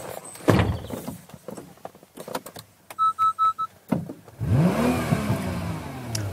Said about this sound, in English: fire the starter and the engine kicks into life with a snarl that's rich and potent